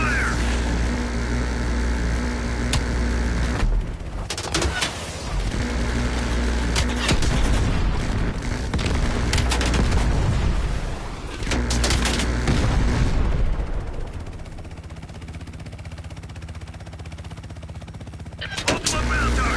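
Call of Duty Black Ops Cold War mission combat with heavy gunfire, booming explosions and aircraft rumble, a dense continuous barrage that drops out briefly several times before fading into quieter battle noise.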